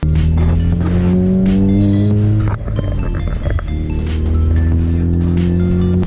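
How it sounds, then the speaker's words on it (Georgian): An export-spec Mazda RX8 rotary engine revs hard with a loud, buzzing exhaust note. The pitch climbs, dips sharply midway, then climbs again, close and alone. "ეს მანქანა არის Mazda RX8"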